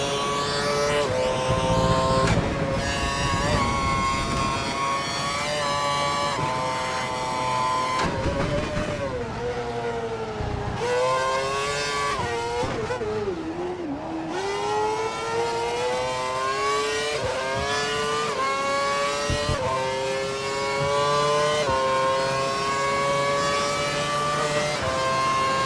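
A Formula One car in the F1 2012 video game on a flying lap at Silverstone, its loud high-pitched engine screaming continuously and rising in pitch through the gears, with brief lifts and downshifts before climbing again.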